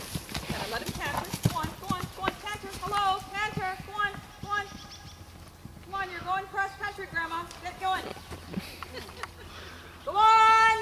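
A horse canters on a cross-country course, its hooves giving a rhythmic clip-clop beneath a rider's voice and clearly tonal calls, fairly faint overall with a louder burst at the end.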